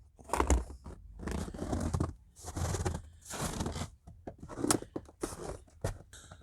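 Snow crunches underfoot in freezing cold, roughly 28 to 30 degrees, on a shoveled porch, in a series of close, irregular crisp bursts of compacted snow with brief pauses between steps.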